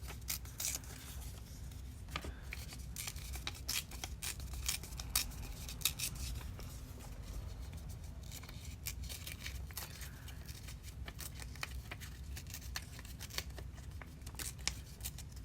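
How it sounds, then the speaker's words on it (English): Paper pages being torn by hand for a small scrap collage, a steady run of close, crisp ripping and rustling strokes with no talking. "this one I'm going to rip as well, so that way it doesn't have straight edges"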